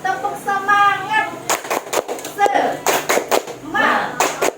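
A group of people claps in a quick rhythmic pattern for a tepuk semangat cheer, sharp bursts of claps alternating with voices chanting and speaking between them.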